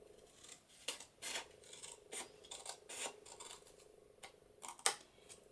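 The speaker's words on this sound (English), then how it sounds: "I can see that I really need to cut a little bit more off of here." Scissors snip through paper while a December Daily journal cover is trimmed, making a handful of crisp, quiet cuts and rasping slides at irregular intervals, heard close and alone.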